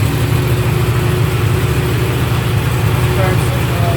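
A brand-new Yamaha R1M motorcycle idles while its engine warms up, producing a loud, steady, close low rumble that holds evenly from start to finish.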